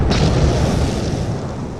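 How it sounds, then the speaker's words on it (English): A deep rumbling boom from an explosion, loud and sustained, decaying slowly over a couple of seconds with no voices. "the quiet of the night was destroyed by the deafening series of concussive explosions"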